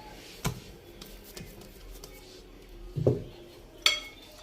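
A bowl is handled while it is oiled and bread dough for hawawshi or meat pie is set inside, giving three scattered clinks and knocks of kitchenware against a quiet indoor background.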